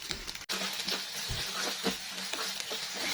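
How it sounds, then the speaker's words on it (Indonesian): Eggs are scrambled in hot oil in a wok, a steady close sizzle with intermittent spatula scrapes and stirring taps. "ini kita langsung orak-arik aja telurnya, nggak perlu lama-lama ya, sebentar aja cukup sampai telurnya ini mateng"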